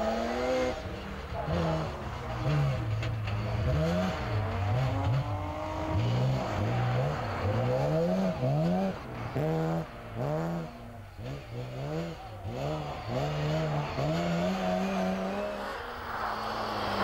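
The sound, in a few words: rally cars racing on Kouvola trotting track special stage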